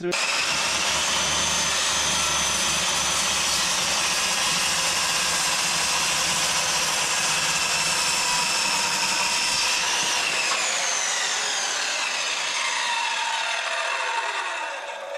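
A Vitals circular saw with a new sharp blade cuts through a 60 mm oak board, giving a loud, steady whine for about ten seconds before the blade spins down and fades.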